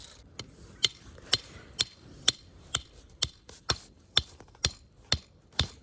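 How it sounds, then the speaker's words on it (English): A hammer drives a wooden stake into the ground on a farm while a fence line is being laid out with string: about a dozen sharp, evenly spaced strikes, close and clear, with no talking. "So we'll hammer that stake in with this string"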